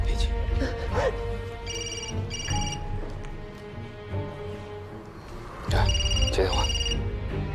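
A telephone rings in repeated electronic trill bursts, fairly loud and close, while people talk over and between the rings.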